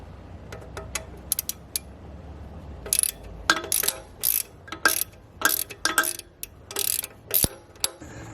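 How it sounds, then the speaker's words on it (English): A 1/4 inch drive ratchet loosens bolts on a Ford Ranger during a turbo actuator replacement, giving close, crisp clicking in a run of quick bursts with short pauses between strokes, and no one talking. "it's just a 1/4 inch drive ratchet that I'm using, so this is basically what you'll need to undo those bolts"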